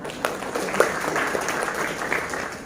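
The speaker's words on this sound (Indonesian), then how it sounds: "Boleh berikan aplaus yang berikutnya" An audience applauding group A at the Central Java provincial Four Pillars MPR RI quiz competition, with a steady wash of many hands clapping and no break in the sound.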